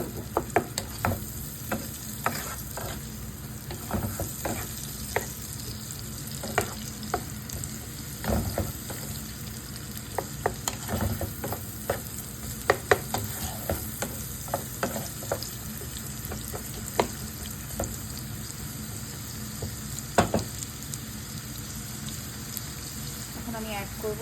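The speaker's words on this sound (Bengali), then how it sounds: "এটাকে আমি কিছুক্ষণ নাড়াচাড়া করে অনিয়নগুলোকে নরম করে ফেলবো" Onions are stirred and sautéed in a pan, a steady crackling sizzle with frequent clinks and scrapes of the spatula for a long stretch, and a brief voice now and then.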